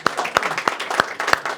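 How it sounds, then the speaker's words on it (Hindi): A small cinematography workshop audience claps briefly for Kelvin, a short scattered burst of individual hand claps close by, with a few louder distinct smacks over faint murmuring. "तालियां हो जाए केल्विन के लिए यार"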